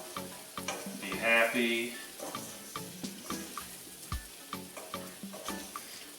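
Spicy shrimp curry cooks in a pan with a steady sizzle and repeated spoon scrapes and stirs, close and moderately quiet, while a voice speaks briefly over it.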